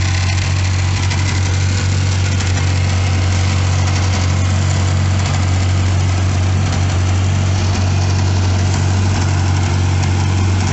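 A car engine with a factory turbo idles steadily, a loud, constant low hum with a strong even drone and no change in pace, close by with no other sounds.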